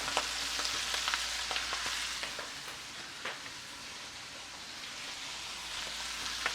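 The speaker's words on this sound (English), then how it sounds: "it's going to pop and make a lot of noise because there's a lot of moisture in cabbage" Cabbage fries in bacon grease, a dense, continuous crackle with frequent sharp pops scattered throughout, fairly close and with no talking.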